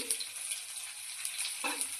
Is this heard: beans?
yes